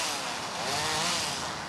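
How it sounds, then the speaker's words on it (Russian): A chainsaw cuts through large tree branches during annual crown pruning of urban trees, a loud, steady engine drone running continuously and close by, with no speech. "Сначала с помощью пилы избавляются от крупных веток."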